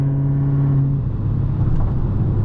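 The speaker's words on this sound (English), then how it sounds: "Bro, the Challenger sounds so nasty." A Dodge Challenger Hellcat Redeye engine drones loud and close from inside the car, a steady low rumble that deepens into a rougher roar as it accelerates, with no talk over it.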